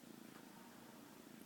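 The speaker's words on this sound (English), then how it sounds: "If you listen very carefully, you can hear him purr." A tiny kitten purrs in a steady, soft rhythmic rumble heard up close, continuous and alone.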